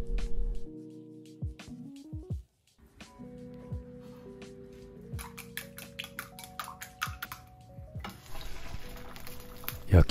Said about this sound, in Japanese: 花を添えるために卵焼きを作ります。 じゅわじゅわ、ふわふわ